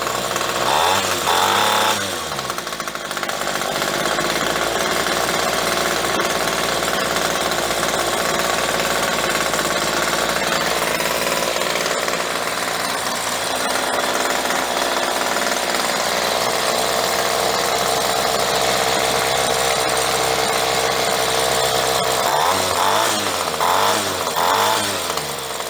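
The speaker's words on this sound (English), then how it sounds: "now she's idling, but she needs a little bit of a tune." A Ryobi weed eater's small two-stroke engine idles roughly in a workshop after a carburetor diaphragm repair, needing a tune: a loud, close, continuous buzzing drone with slight revving wobble at the start and end.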